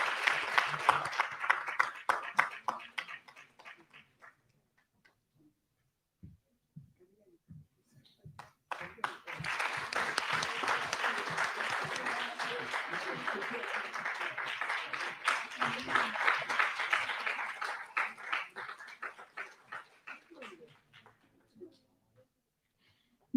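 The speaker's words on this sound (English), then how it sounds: "Can we have a loud round of applause for the winners and participants?" An audience at an Indian Council for Cultural Relations anniversary celebration applauds dance winners and participants, with sustained clapping that fades, pauses, then swells again into a long steady round before tapering off.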